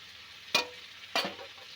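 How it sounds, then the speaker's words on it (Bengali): Potatoes are stirred into a sizzling spice mix in a pan, with two distinct scraping stirs over a soft, steady frying hiss. "আলু দিয়ে একটু নাড়াবো"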